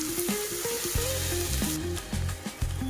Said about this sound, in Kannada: ಒಂದು ಸ್ಪೂನಷ್ಟು ಶುಂಠಿ ಬೆಳ್ಳುಳ್ಳಿ ಪೇಸ್ಟನ್ನು ಸೇರಿಸ್ಕೊತಾ ಇದ್ದೀನಿ. ಹಸಿ ವಾಸನೆ ಹೋಗೋವರೆಗೂ ಸ್ವಲ್ಪ ಫ್ರೈ ಮಾಡೋಣ